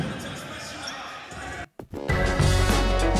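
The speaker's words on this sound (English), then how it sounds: "the sound of the basketball game will continue underneath our sort of ending credit." A busy, echoing gym ambience from a basketball game with scattered ball bounces and crowd noise, briefly dropping out before returning louder with a deep, full wash of sound.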